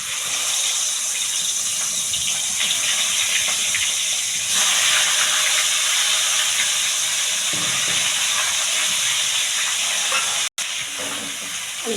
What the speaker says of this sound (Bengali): তেল আমার গরম হয়ে গেছে, এখন আমি চিকেনগুলো দিয়ে দেবো।